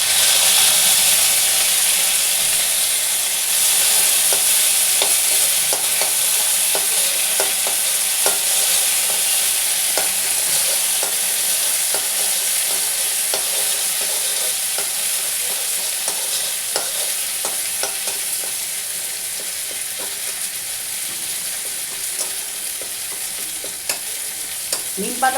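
Neem leaves fry with onion in a pan, a continuous sizzle and hiss with frequent scraping stirs from a utensil, close and steady with no talking.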